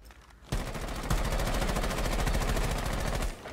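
Sustained automatic fire from a C8 rifle in Rainbow Six Siege, a rapid, loud, continuous burst of gunshots starting after a short quiet lead-in and running for about three seconds before cutting off.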